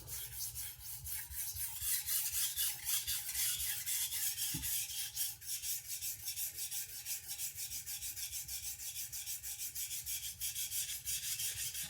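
A badly abused knife being sharpened makes repeated rhythmic rasping strokes against a stone, steady back-and-forth scraping close by with a brief knock partway through, no talk.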